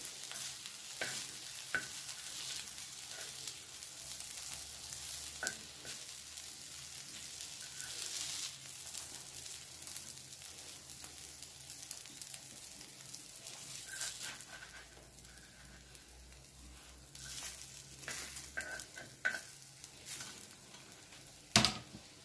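Vegetables cook in a pan for a vegan veggie sandwich, giving a low steady sizzle with intermittent scraping and stirring clicks. A sharper clatter comes near the end.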